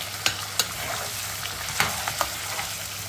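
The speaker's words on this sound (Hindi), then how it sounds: "आलू को इसमें पका लेंगे, फ्राई होने देंगे।" Potato slices fry in hot oil with garlic and green chillies in a pan, giving a steady close sizzle broken by a few sharp clicks of stirring, with no talking.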